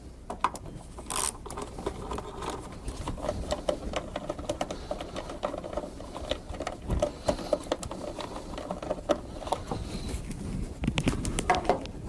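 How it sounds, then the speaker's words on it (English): Screws being backed out of a Motorola SLR 5000 Series repeater chassis with a T20 Torx driver, heard as a busy stream of close, small metallic clicks, ratcheting and tool scrapes with intermittent louder knocks, with no talking. "Remove the 4 screws securing the power supply module to the repeater chassis with a T20 Torx"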